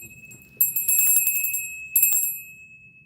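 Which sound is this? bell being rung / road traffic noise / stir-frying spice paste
bell being rung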